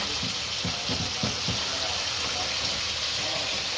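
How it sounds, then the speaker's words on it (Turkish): Peppers sizzle and crackle steadily in a hot pan, with a few soft clinks and stirring sounds early on. "Biber kızartıyor bir yandan da."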